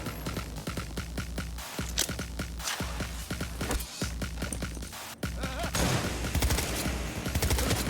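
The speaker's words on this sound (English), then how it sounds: "That's a sniper." Steady rhythmic gunfire in Cyberpunk 2077, a sniper's sharp cracks repeating among rapid bursts, loud and near, with the shooting thickening toward the end.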